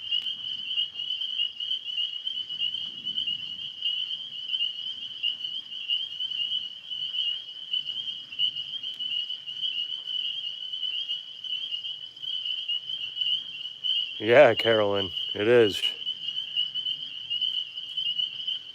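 High-pitched tree frogs call from the trees in a steady, unbroken shrill chorus that holds throughout, joined near the end by brief sweeping calls and a short spoken remark.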